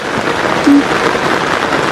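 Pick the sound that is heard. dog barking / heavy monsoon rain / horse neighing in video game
heavy monsoon rain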